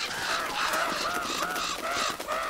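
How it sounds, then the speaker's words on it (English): Crows caw repeatedly in a steady, dense series of harsh calls within the video game Uncharted: Drake's Fortune, loud and close over a noisy backdrop with no talking. "Evil crows,"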